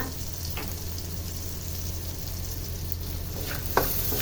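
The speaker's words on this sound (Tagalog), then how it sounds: "hayaan ko lang yan na maprito muna" Fish sizzles in a frying pan for a ginisang fried fish dish, a steady, close hiss with a few soft clinks and stirring scrapes near the end.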